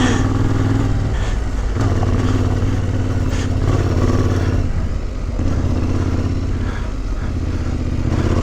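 A 2021 Yamaha Tenere 700 motorcycle engine drones steadily and close up while being ridden through corners, with mid-range growl and wind roar holding loud throughout and brief dips around shifts.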